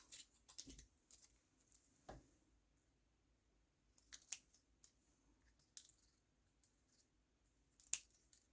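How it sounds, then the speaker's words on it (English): Scissors snipping through craft card, a few soft close cuts spaced across a quiet stretch with faint rustling between them. "So I'm just going to cut this."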